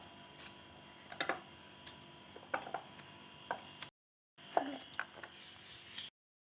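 A knife taps and chops coconut into small pieces in short, irregular strokes on a board, a handful of quiet cuts with a brief gap partway through.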